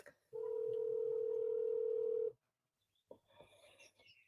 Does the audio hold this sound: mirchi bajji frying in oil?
no